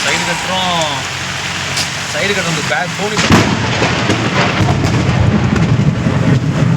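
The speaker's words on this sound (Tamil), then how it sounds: "கண்ணே தெரியாத அளவுக்கு மழை வருது." Heavy rain pours onto a parked auto-rickshaw in Chennai, a dense, loud, steady roar of water drumming on the vehicle that swells sharply partway through, with people talking over it early on.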